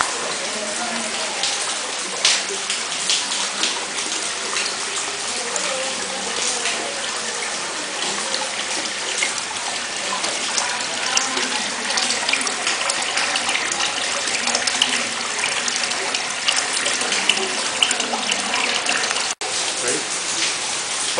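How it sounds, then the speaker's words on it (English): Rainwater gushing from a pipe of about three and a half inches into a sump tank in a rainwater harvesting system, a steady loud splashing pour that runs continuously throughout. "there's rainwater coming into it right now"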